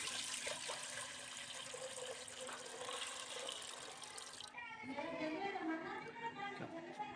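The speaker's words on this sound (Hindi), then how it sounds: "पतीले में पानी डाल देते हैं" Water is poured into a cooking pot set over a fire in a steady splashing stream that shifts to a fuller, gurgling pour toward the end, fairly quiet overall.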